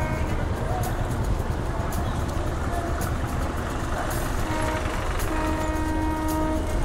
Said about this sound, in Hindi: ये खूबसूरत सा रेलवे स्टेशन है डिब्रूगढ़ का।